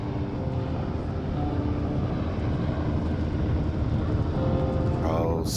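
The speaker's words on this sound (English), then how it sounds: "There's the helicopter." A helicopter flying in the video game Firewatch, a steady loud engine and rotor rumble that persists throughout, with a voice briefly heard over it.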